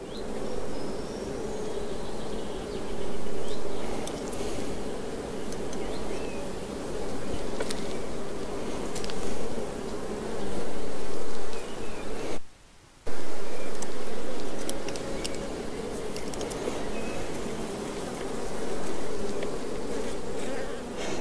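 Honeybees at an open beehive make a steady, dense insect buzz that stays loud and close, with wing noise flickering through it and one brief dropout near the middle; no one speaks.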